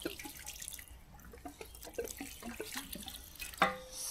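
Plain petrol is poured over a Trabant carburettor, giving a soft trickle with scattered drips close by and a sharp metallic clink near the end.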